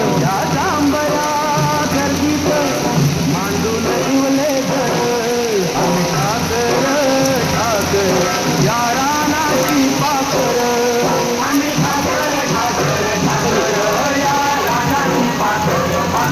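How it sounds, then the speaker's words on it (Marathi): Steady heavy rain hisses throughout, with a busy mix of background voices and tonal sounds layered over the downpour. "पाऊस पडते जोरात"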